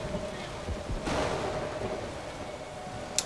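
Steady rain hisses and patters in the video game Stranglehold, with a brief louder swell partway through and a sharp click at the end, and no one speaking.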